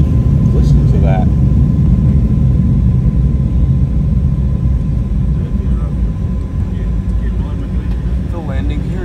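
Full-power takeoff of an Emirates Airbus A380 at JFK, a loud, steady low engine roar filling the whole stretch, with people talking over it now and then.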